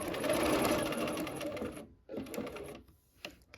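A sewing machine stitching light teal fabric on a quilting project, a rapid mechanical chatter that runs loud for two seconds, stops, then restarts in shorter bursts.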